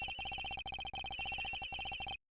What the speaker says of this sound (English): The ringing's coming from somewhere around here.